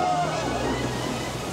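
Storm surf and sloshing water crash continuously against a small boat's bow in a furious storm, a loud, dense wash with wind noise throughout and no clear individual breaks.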